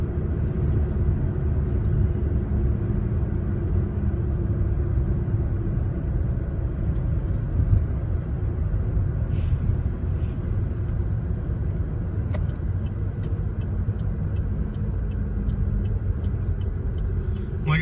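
A 2015 Chevrolet Cruze cruises at highway speed on an expressway, heard from inside as a steady, loud low rumble of road and engine noise that holds constant throughout with no talking.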